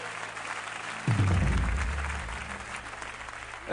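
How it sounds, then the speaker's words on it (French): A short burst of applause from a TV game show studio audience starts suddenly after a moment of room noise, a crowd clapping steadily then fading slightly. "on peut l'applaudir, c'est ça, absolument"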